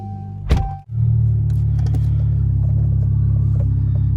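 After a short thump, a car settles into a steady, loud low engine drone as it pulls away and drives off, heard from inside the cabin with faint ticks and rattles on top.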